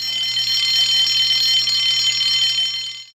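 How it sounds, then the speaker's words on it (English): A loud, shrill electronic alarm rings continuously with a buzzing edge, then cuts off abruptly near the end. "Soon came the alarm."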